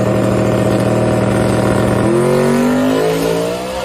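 A drag race car engine on its final run screams loud and steady, then the pitch drops and climbs again as it accelerates through a gear change.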